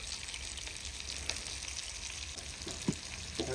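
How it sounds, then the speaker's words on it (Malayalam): Curry leaves and other ingredients sautéing in a pan, a steady close sizzle and crackle of frying oil running throughout with a few brief clinks and stirring scrapes. "അതെല്ലാം നമുക്കൊന്ന് വഴറ്റി എടുക്കണം പിന്നെ അത് ഈ കുറച്ച് കറിവേപ്പില കൂടെ ഇട്ട് കൊടുക്കണം"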